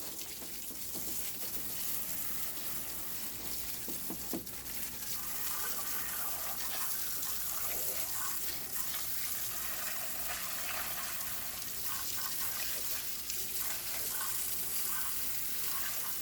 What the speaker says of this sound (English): And again, no pressure, just hose water.